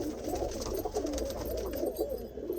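Pigeons kept for sale at a champion loft in Tarn Taran, Punjab, coo softly and continuously against a steady wash of background noise, with no one speaking.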